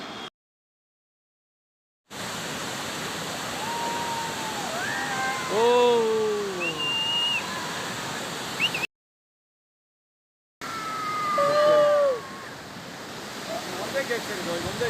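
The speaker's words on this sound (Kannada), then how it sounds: "ಒಂದು 10 ನಿಮಿಷ ಆದ ನಂತರ ಫಸ್ಟ್ ಗೇಟಿಂದ ನೀರು ಬಿಟ್ಟರು." Water released from the first gate of the Hemavathi reservoir dam at Gorur, Hassan, gives a steady broad roar like heavy surf, running continuously with two brief cuts and talk over it in places.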